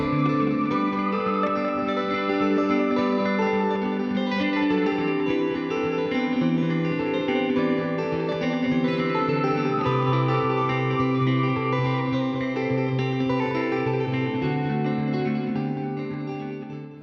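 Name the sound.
live street music in Brindisi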